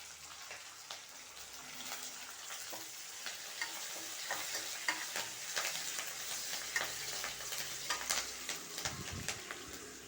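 Curry leaves and dried red chillies hit hot oil in a pan for ridge gourd dal tempering, giving a steady, close hiss of frying with crackles and pops throughout. Stirring scrapes run along under the sizzle.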